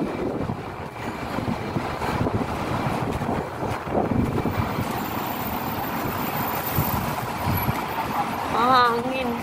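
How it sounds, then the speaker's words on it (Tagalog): Cold wind blows outdoors near a market in Hong Kong as winter approaches, buffeting the microphone in a continuous rushing roar with a few swells in loudness. "Malamig yung hangin niya."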